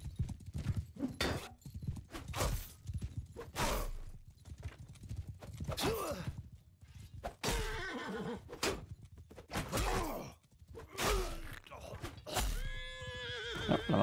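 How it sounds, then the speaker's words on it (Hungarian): Horse neighs and whinnies repeatedly amid clip-clopping hooves and combat clatter in the Mount and Blade 2 Bannerlord video game, loud and busy throughout, with people talking over the game sounds. "Levágtunk egy lovat."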